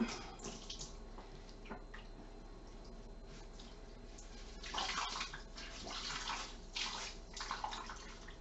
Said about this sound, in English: I'm just taking out my first hank of yarn out of my soaking bucket.